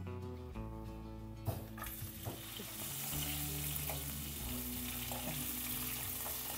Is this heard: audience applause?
no